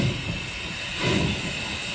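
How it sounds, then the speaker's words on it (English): Union Pacific Big Boy 4005, a steam locomotive hauling freight out of town with steam escaping from every joint, gives a continuous loud hiss and rumble, swelling briefly midway. "With steam escaping from every joint, 4005 slowly accelerates the train out of town."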